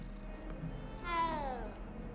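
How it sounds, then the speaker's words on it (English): A cat being petted in Hogwarts Legacy lets out a single clear, drawn-out meow, faint and close over a quiet game background. "Oh, you can pet a cat in this game."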